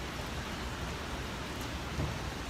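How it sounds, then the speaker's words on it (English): Rain falls steadily in Columbus, making a dense, even hiss at moderate volume, with a faint low thump near the end. "This rain needs to stop."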